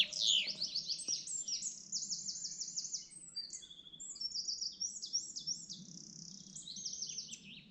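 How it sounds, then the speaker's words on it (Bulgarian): A small bird sings close by on a spring day in the Golo Bardo mountains, its bright, rapid chirping phrases repeating one after another over a quiet, faintly buzzing outdoor background. "Ето една птичка ни пее директно пред нас."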